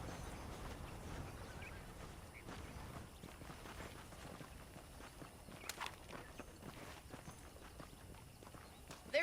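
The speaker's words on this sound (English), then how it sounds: "The horses are saddled up over here." Horse hooves clip-clop in the Red Dead Redemption video game, a faint, steady run of hoofbeats under quiet ambience.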